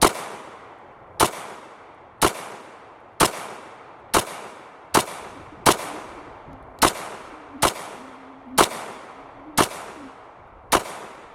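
An FNH FNS 40 S&W handgun fires twelve sharp, loud shots outdoors in windy conditions, spaced roughly a second apart in a steady rhythm, each crack decaying quickly.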